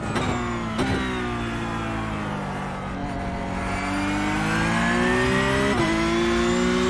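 A Porsche Cup race car engine in iRacing at Twin Ring Motegi drones steadily throughout, its pitch sliding down and climbing again with gear changes, loud and close, with no voices.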